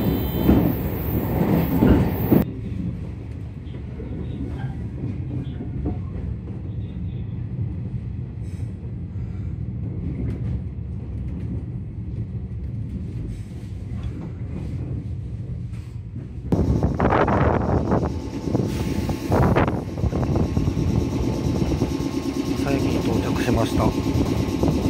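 A Shinkansen Nozomi 34 bullet train bound for Tokyo passes through a station at high speed, a loud sustained rushing roar with a sharp swell of whooshing noise as the cars race by.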